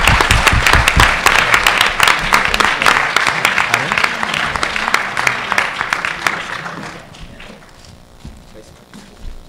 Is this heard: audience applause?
yes